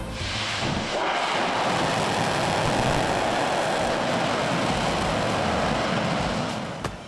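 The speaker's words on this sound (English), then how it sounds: "we're testing the RS-25 engines that will power NASA's Space Launch System on a journey to Mars" An NASA RS-25 rocket engine test firing at the Stennis facility gives a loud, continuous broadband roar that holds steady for several seconds before easing slightly at the end.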